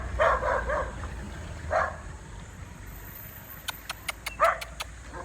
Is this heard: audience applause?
no